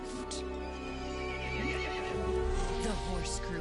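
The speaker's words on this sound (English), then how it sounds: "The horse grew angry and summoned the other monsters." Horse neighing in the Resident Evil Village video game, a long loud whinny with wavering pitch over a steady droning background, close and clear.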